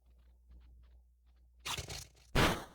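Crunch attack from PokeMMO: two loud, close crunching bursts, the first ragged and about half a second long, the second a sharper heavy crunch, following a quiet stretch of faint game ticks.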